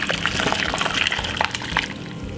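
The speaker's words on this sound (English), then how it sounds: "So now this is finished, and all I'm going to do is strain it" Cucumber tea poured through a kitchen strainer, a steady close splashing trickle of liquid running continuously with small drips and gurgles, no voices over it.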